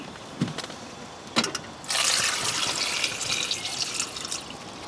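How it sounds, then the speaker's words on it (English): Water poured from a tap into a pot of washed new potatoes: a few drips and knocks at first, then a steady, close gushing fill that continues and slowly settles, no speech. "Just some water."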